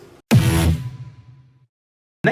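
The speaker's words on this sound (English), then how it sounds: "I also added another hardstyle kick here to make it more interesting" A distorted hardstyle kick punches hard in a happy hardcore track mixed with lo-fi, with a booming low tail that fades over about a second. A second hit starts just at the end.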